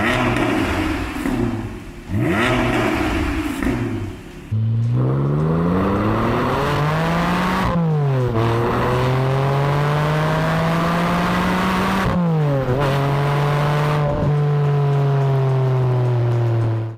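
Porsche 718 4.0 GT4/Spyder/GTS with a Supersprint aftermarket exhaust revving: a few sharp blips, then long climbing revs that drop and rise again, loud, close and raspy throughout, with no voices.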